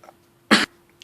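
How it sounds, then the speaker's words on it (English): A single short, sharp cough close to the microphone, otherwise near silence. "Sorry, keep coughing."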